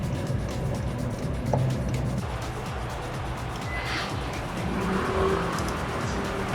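An old car driving on the road after a metal protectant has been added to its fuel, with continuous engine and tire noise, a passing whoosh and faint squeals.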